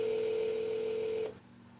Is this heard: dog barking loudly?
no